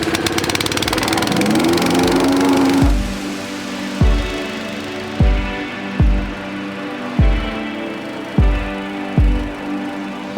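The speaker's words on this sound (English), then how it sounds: "So now that I've ran my vibra plate over" A vibratory plate compactor rumbles loudly over paver blocks, its engine steady at first, then settling into a slower run of regular heavy thumps about once a second.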